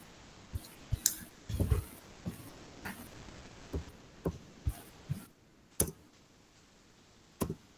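Scattered keyboard keystrokes from participants in an online meeting, sharp isolated clicks at irregular intervals over a low hum, with no talk.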